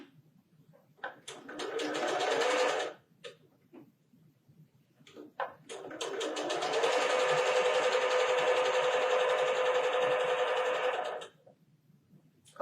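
Sewing machine stitching the seams of a disappearing nine-patch quilt square, a short burst of rapid whirring stitches, a pause with small clicks, then a longer steady run of stitching, close and clear with no talk.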